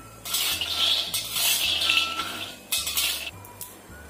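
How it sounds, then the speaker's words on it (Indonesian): About 150 grams of peanuts are dry-roasted in a pan over low heat and stirred, giving repeated scraping and rattling bursts of nuts against the pan, close and fairly loud, with short pauses between strokes. "Kita goreng, kita bolak-balik supaya matangnya itu merata."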